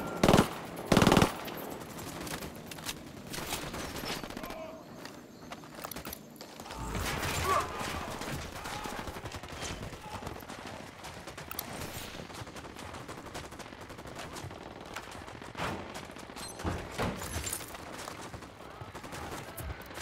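Gunfire in the video game Ghost Recon Wildlands: loud bursts of automatic rifle fire and scattered shots with mechanical clatter, irregular across the stretch, with a voice speaking briefly at times.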